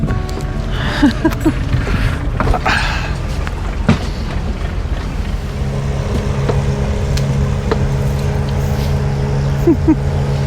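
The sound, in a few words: boat motoring on the Kerala backwaters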